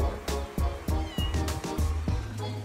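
Several kittens meowing repeatedly by a roadside, a run of close, loud, high cries following one another in quick succession.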